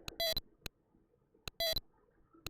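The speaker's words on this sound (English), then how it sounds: "the beeping of failure that you have" Tinny electronic beeps from a 1983 Mario Bros. Game & Watch dual-screen LCD handheld, sounding a failure alert: two short, bright beep bursts about a second apart, each with sharp clicks around it, over quiet background.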